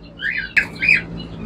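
Caged finches and canaries squawk close by in a couple of sharp, harsh calls with a brief click between them, set over a low steady background hum.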